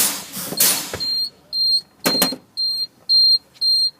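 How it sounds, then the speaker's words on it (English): A truck's low air pressure warning alarm sounds with the ignition on, as air pressure drops to about 55–75 psi: a loud series of about six evenly spaced high electronic beeps following a brief burst of noise. "Okay, light and alarm are on."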